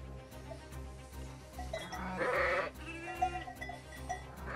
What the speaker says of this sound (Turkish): Burada taze kuzular var.